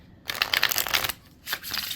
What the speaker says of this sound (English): I'm trying to really shuffle so that we can